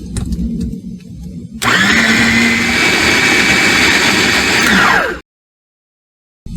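A blender purees blueberries for seedless jam, starting abruptly with a loud steady whir that runs for several seconds, its pitch sliding down as the motor cuts off into silence.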